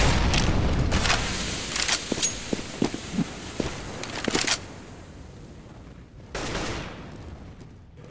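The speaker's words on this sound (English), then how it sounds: "Grenade out." Grenade blast in CS:GO on the de_nuke map during a competitive match, heard as a burst of sharp gunfire and booming impacts in the first half, then a quieter stretch before a final loud rumbling burst.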